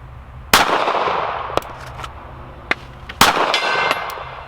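A Ruger LCP Max .380 pistol is fired at hanging steel targets at an outdoor range. Two loud, sharp reports each ring off steel with a lingering clang, and a few fainter clicks and knocks fall between them.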